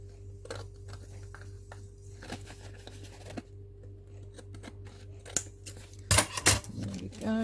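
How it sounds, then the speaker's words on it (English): Scissors trimming a small piece of paper, quiet snips and rustles, then a louder burst of crisp cutting near the end, with a faint hum underneath. "Trim this little piece."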